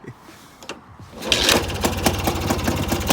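A Puch SG250 motorcycle engine cranks and catches, then settles into a fast, rattling idle that runs steadily and loudly up close.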